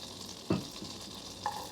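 Minced ginger hits melted butter in a hot pan, giving a short burst of sizzle that settles into a quiet, steady frying hiss with a brief spatter near the end.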